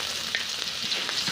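Garlic and onion sauté for nasi goreng Pattaya, a dense, bright sizzle with occasional stirring scrapes, close and continuous, with no voices.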